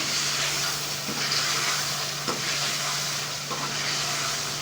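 Raw chicken for a chicken chana curry sizzles in a hot pan, a steady close hiss with a few faint stirring knocks, no voices present.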